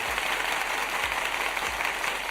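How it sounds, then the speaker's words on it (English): Applause sound effect in StreamYard, a steady wash of clapping hands that runs evenly throughout at moderate level, with no voices over it. "Yes, the clapping."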